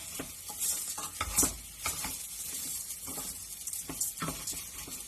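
Risotto rice toasting in hot oil in a pan, stirred with repeated scraping strokes over a soft, steady sizzle, close by with no talking.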